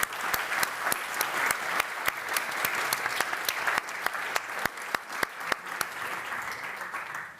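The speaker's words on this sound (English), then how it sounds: "Just a big, big applause." An audience at a European forum in Vienna applauds with sustained, dense clapping, a few sharp individual claps standing out near the front, gradually thinning toward the end.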